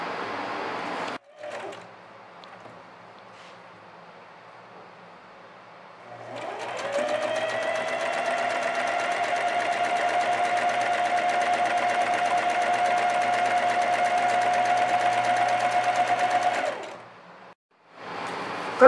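A sewing machine stitching an elastic band onto a child's garment in zigzag or straight stitch: a steady, close mechanical whir runs for about ten seconds between quieter pauses, with faint speech before it.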